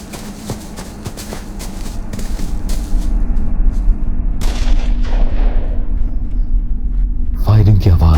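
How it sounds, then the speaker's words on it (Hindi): Bursts of gunfire crack and rumble through a loud, chaotic commotion during a panicked stampede at a wedding, with heavy low booming and continuous crowd noise underneath, growing denser and louder toward the end. "फायरिंग की आवाज और शोर शराबा"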